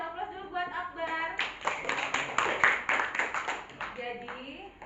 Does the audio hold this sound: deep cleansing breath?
no